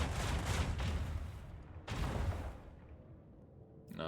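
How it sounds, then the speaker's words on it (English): Torpedoes launching in a space combat game, heard as two broad, loud rushing blasts in quick succession, then a fading rumble and a short buzzing tail. "I can just keep putting out torpedoes"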